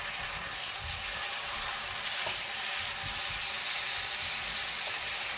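Steady, continuous sizzle of food sautéing in a little oil in a pan, for Guatemalan-style shredded beef, with faint stirring scrapes, close and even throughout with no talk.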